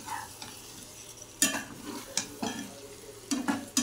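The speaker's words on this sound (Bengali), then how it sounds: "আলুটার মাংসটা মশলার সাথে ভালো করে কষিয়ে নেব।" Boiled chicken and potatoes being stir-fried with spices in a pan: a low steady sizzle broken by several sharp, close scraping and clattering stirring strokes, with no voices.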